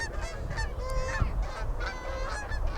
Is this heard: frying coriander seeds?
no